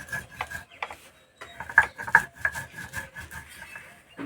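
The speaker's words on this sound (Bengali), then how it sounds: "একদম মিহি করে গুঁড়ো করে নিতে হবে," Roasted spices being ground into fine powder, with rhythmic, close rasping and scraping strokes and no talking.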